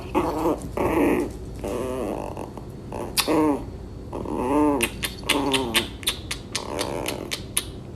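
A big German Shepherd makes a run of close, loud growling and whining vocalizations in short bursts, broken by quick sharp clicks and scuffs, with little talking.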